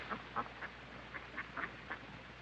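Ducks at the Stanley Park zoo give a series of short, faint quacks scattered irregularly over a steady low hum, with no talking.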